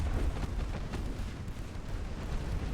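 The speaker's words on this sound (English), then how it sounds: "these 5-inch guns are just tearing them apart" 5-inch naval guns fire in the naval warfare game Ultimate Admiral Dreadnoughts, a dense continuous rumble of booming shots blending together at a steady loud level, with no speech.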